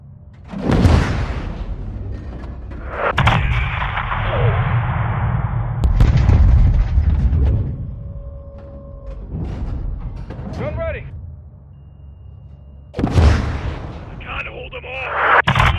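Heavy booming missile blasts in Call of Duty Modern Warfare 2 land in several separate bursts, loud and rumbling with long decays, interleaved with gunfire and radio chatter from soldiers.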